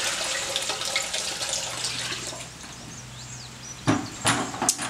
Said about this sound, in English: The next step is to add your warm water.